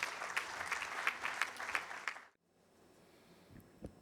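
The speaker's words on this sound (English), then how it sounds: "huge round of applause" Audience applause for a welcome address at an SME manufacturing summit in Mumbai, a dense burst of clapping from a seated crowd that stops abruptly halfway through, leaving quiet room tone with a faint thump near the end.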